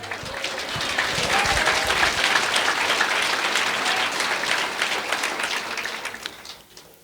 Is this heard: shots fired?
no